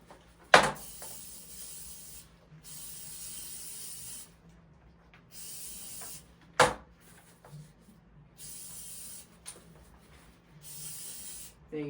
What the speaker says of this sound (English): Once you finish your toilet, just spray your toilet.